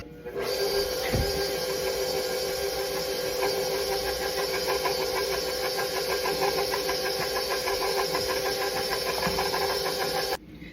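An electric mixer beats pumpkin coffee cake batter, a loud, steady whirring motor drone that runs continuously for about ten seconds before cutting off abruptly near the end.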